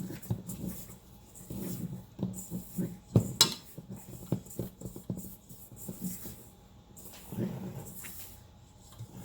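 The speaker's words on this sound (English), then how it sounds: "I'm going to hand mix this because it's powdering up too much" Powdered bath bomb mixture stirred by hand in a bowl, a soft irregular scraping and rustling with a few clinks, close and moderately loud, while a dog whimpers and pants nearby.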